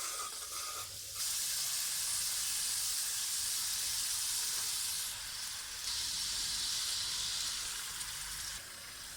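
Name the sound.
fried chicken added to onion-egg gravy, frying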